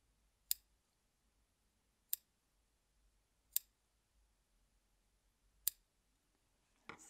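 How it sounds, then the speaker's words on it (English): Four sharp, isolated scissor snips cutting waste-yarn loops on a knitted hat at uneven intervals, close and clear against near silence, followed by a faint rustle at the end. "with my scissors and very carefully, without snipping the real yarn, I'm going to just cut between the loops here"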